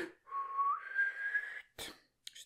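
A person whistles a short, clear rising tune up close, holding the notes steadily before a brief pause and a few faint sounds afterward.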